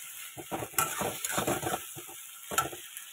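Spices with salt, turmeric, cumin and ginger paste being sautéed in a pan, heard as soft sizzling under irregular spatula scrapes and knocks in short bursts.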